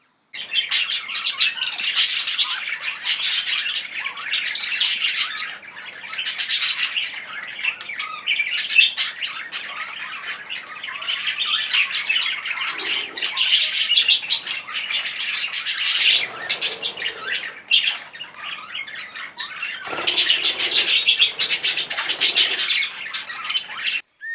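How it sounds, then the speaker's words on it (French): Aviary of budgerigars, zebra finches and a canary, filled with dense, continuous chattering, squawks and high chirps from many birds at once, close and lively throughout with occasional wing flutters. "une volière a été installée pour égayer le site, avec des perruches ondulées, mandarins et un canari"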